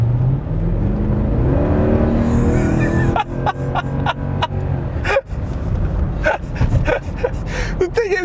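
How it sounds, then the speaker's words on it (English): A 500-horsepower Mercedes R63 AMG minivan accelerates at about half throttle, its engine rising in a loud, steady drone with revs climbing and some gear-change dips, heard from inside the cabin. "All right, I'm accelerating a little."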